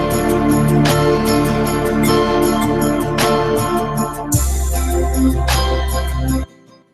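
An amateur guitar part layered with an added bass line plays as a full, dense mix with steady rhythmic strums and a deep low end, ending abruptly after about six seconds.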